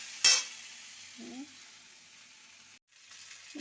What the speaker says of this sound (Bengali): চিংড়ি মাছগুলো এখন দিয়ে দিই, দিয়ে একটু ভালো সুন্দর করে কষিয়ে দিই